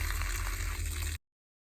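Water gushing steadily into a paint container as it is rinsed out, a continuous close rushing splash lasting about a second before cutting off abruptly.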